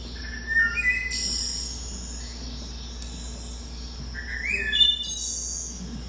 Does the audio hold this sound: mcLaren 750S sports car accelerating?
no